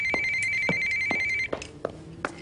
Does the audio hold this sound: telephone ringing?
yes